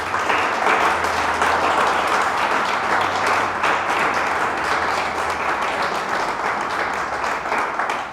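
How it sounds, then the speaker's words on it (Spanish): A church congregation applauds loudly and steadily for about eight seconds, a dense wash of many hands clapping with a low sustained tone humming underneath. "Denle un fuerte aplauso a nuestro Dios."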